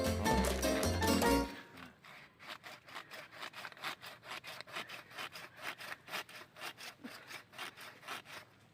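Rhythmic back-and-forth rasping of a dull hand saw biting into a starfruit bonsai branch, steady strokes repeating close by after a brief burst of music at the start.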